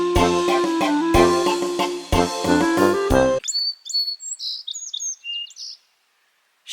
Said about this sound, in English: We have a little bird up here